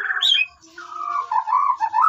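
An agitated white-rumped shama (murai batu) at a bird farm, one of a breeding pair, gives loud harsh squawks and wavering whistled calls, close and continuous with a brief dip midway.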